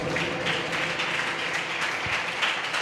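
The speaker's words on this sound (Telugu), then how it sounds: "కొట్టు ఇప్పుడు చప్పట్లు." A church congregation at a holy communion service bursts into sustained applause, a dense, even wash of many hands clapping that carries on for the whole stretch at moderate volume.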